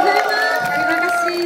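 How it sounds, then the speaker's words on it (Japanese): A festival crowd at Jak Japan Matsuri 2018 cheers and applauds for the duo Kiroro, a dense, steady roar of voices with tonal sound running through it. "それでは改めましてもう一度キロロのお二人に大きな拍手をお願いいたします。"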